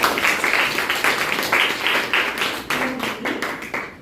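A classroom full of students claps for a few seconds, a dense patter of hands without talking.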